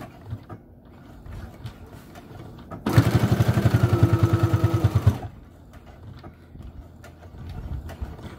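A sewing machine stitches a flannel and batting microwavable bowl holder in one rapid, rhythmic mechanical burst of about two seconds, loud and close, framed by quieter handling noises and fabric shuffling.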